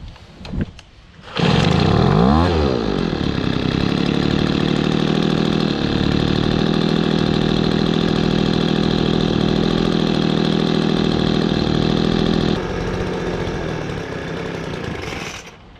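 A Craftsman/Poulan 25cc leaf blower with a newly replaced carburetor starts up and runs at a loud, steady idle up close, the buzzing tone dropping slightly lower near the end.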